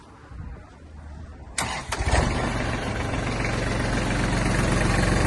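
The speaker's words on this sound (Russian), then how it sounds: "Трактор работает мягенько. Запускается легко у нас." A Kubota Japanese mini tractor engine cranks briefly, then catches and settles into a loud, steady idle that continues to the end.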